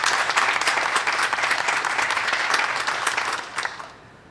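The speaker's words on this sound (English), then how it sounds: "so a nice round of applause" Audience applause at a graduation ceremony for a Master's diploma recipient, dense steady clapping from a large crowd that fades out toward the end.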